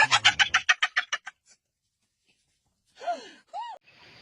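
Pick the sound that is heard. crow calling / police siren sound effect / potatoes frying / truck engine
crow calling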